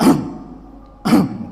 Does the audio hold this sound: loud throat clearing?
yes